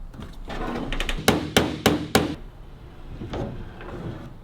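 A mallet strikes the boot of a 1934 Austin 10 car four times in quick, evenly spaced succession, each a sharp, loud metallic-wooden thwack, with quieter handling knocks before and after.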